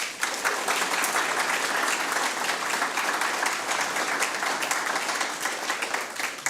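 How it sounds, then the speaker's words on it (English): A crowd at a school board meeting applauds students after their presentation, a sustained wash of moderate clapping lasting several seconds without talk. "And let's give these kids a round of applause."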